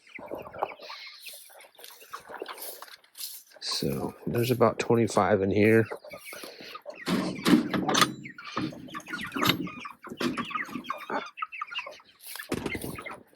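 Around twenty-five chickens cluck and squawk inside a farm coop, a busy rising chorus with one loud drawn-out call in the middle, heard under a man's close, ongoing talk.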